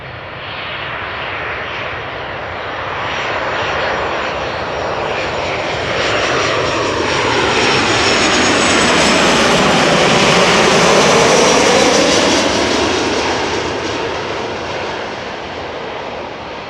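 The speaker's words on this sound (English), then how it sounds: "First up, a 737-800 arriving from Paris Charles de Gaulle." A KLM Boeing 737-800 jet arriving at Amsterdam Schiphol from Paris Charles de Gaulle, its loud engine roar building, peaking overhead with a sweeping Doppler shift, then easing off as it passes close by.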